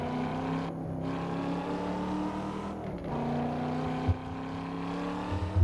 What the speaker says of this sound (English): you can hear the parking brake kick in, but it doesn't lock the tires